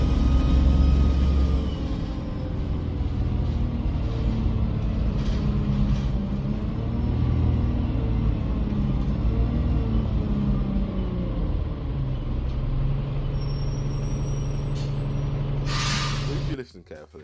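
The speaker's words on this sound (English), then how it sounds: "this was a 13 plate first Allison and Dennis Enviro300, and this had a ZF Ecolife transmission" A 2013 Alexander Dennis Enviro300 single-deck bus with a ZF Ecolife automatic transmission, heard from inside as a steady low engine rumble and whine that shifts and eases as the bus slows, ending abruptly.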